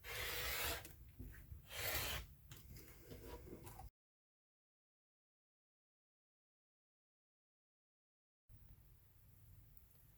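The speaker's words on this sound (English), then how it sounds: "I can just take my ruler and start cutting 1/2 inch wide strips" Half-inch bias strips of fabric are cut along a ruler, giving a few quiet rasping, scraping strokes close by, then a sudden drop to silence before faint room noise returns.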